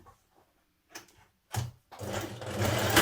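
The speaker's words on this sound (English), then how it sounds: "Stitch your side seam." A sewing machine stitches the side seam of a New Look 6567 dress, starting with a few faint taps and short bursts before running in a steady, fairly loud hum through the last second.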